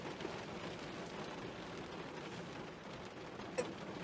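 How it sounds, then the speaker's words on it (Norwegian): Steady soft rain falls into spruce trees outdoors, a faint continuous patter with one brief sharper knock near the end. "Det kan hende høre regnet, fordi det regner nå så inn i granskene."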